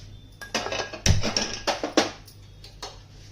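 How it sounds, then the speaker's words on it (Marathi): A kadhai set down on a gas stove for tempering, giving a few sharp metallic clunks and clatters of cookware, close and fairly loud, with quieter scraping between. "गॅसवरती कढई ठेवली ना, 2 चमचे तेल टाकून घेते."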